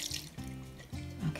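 Half and half is poured into a bowl of eggs, a soft close trickle of liquid in short uneven pulses, faint and alone.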